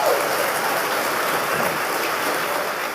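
Audience applause at a debate, a dense, steady wash of clapping that stays loud and even for the whole stretch with no talk over it.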